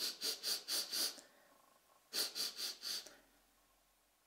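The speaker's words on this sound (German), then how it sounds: "Und der andere Hund, der schnuppert." Dog sniffing outdoors, two quick bursts of short rhythmic breathy snuffles separated by a brief pause, fairly close and otherwise quiet.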